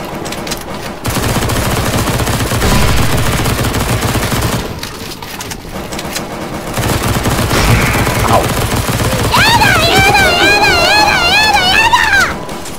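Rapid bursts of automatic gunfire in Counter-Strike: Global Offensive, in a zombie escape map during a boss fight, crackling densely and loudly with brief gaps and a tonal game effect near the end, over a busy background.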